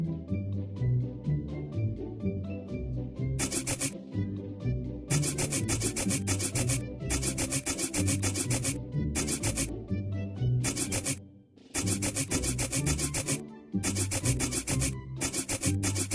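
Steady rhythmic rubbing and scrubbing bursts from a cartoon word-learning game as a word is cleaned, loud and continuous with brief pauses, set over a bright repeating music bed.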